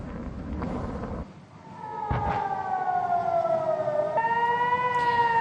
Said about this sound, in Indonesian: memicu sirine serangan udara di kota terbesar Israel, Tel Aviv